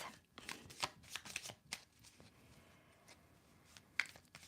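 Tarot cards being shuffled by hand in quick, soft riffling bursts with sharper snaps, close and fairly quiet, thinning out toward the end.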